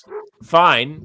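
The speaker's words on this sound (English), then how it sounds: "I'm going to again apologize for the barking dogs because there are trick or treaters at the house" A dog yips and then lets out one whining bark at trick-or-treaters arriving at the house, close and loud, as someone talks over it.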